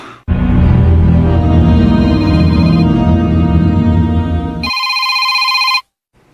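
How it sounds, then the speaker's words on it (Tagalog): A cellphone rings loudly and close, with a steady electronic ringtone melody for about four seconds that shifts to a brighter repeated tone before cutting off abruptly, with no voices. "Oh, si Kadoy na siyang nanawag"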